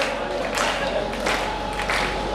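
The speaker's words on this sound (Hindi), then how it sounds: "बजाओ तालियां" Audience applause at a Hindi comic poetry recital: steady, dense clapping from a crowd fills the whole moment, with a few louder swells and some cheering mixed in.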